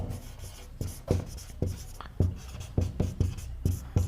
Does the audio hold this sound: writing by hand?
yes